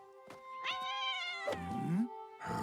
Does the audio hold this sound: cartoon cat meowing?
yes